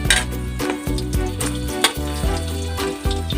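Ginger dropped into hot cooking oil in a pan while cooking spiral snails, giving a loud, steady sizzle and crackle close by, with a few scraping stirs punctuating the frying.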